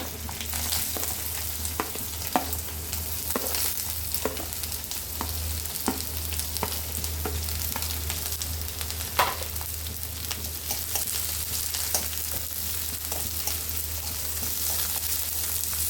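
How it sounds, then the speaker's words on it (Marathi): Onions stir-fried in a pan with garlic for a wild leafy-vegetable dish, a continuous close sizzle with regular stirring clicks and scrapes of the spoon, no talking. "कांदा चांगला परतून घेते."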